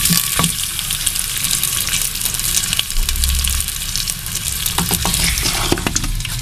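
Chopped onion sizzles in hot oil for mutton kunna, a loud, steady crackling fry that runs throughout, with a few scraping stirs and a brief low thump partway through.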